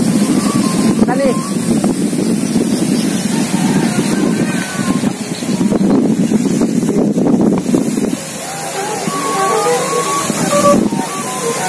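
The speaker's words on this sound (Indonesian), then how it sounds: "Terlalu kencang angin. Kencang sekali angin." Strong gusting wind buffets the microphone outdoors during a kite-flying session, a loud continuous roar with surges, while people talk and exclaim over it.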